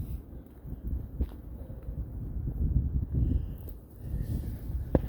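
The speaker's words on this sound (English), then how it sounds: "But today it's clearly wind." Steady low wind rumbling and buffeting a microphone, with a few sharp gusts and rustles, fairly loud and continuous throughout.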